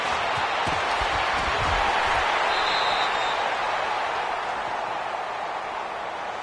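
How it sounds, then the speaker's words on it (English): Home crowd cheering in a football video game, a loud continuous roar of many voices with scattered clapping, swelling slightly early on and holding steady throughout. "This home crowd, they're happy with that call."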